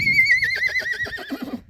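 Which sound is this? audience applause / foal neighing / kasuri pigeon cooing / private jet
foal neighing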